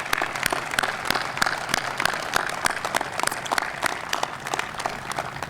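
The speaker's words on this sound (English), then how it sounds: "Let's give them a round of applause for that." A crowd gathered at a public safety training center ribbon-cutting claps steadily, with distinct individual claps popping out of a moderately loud, even wash that holds for the whole stretch.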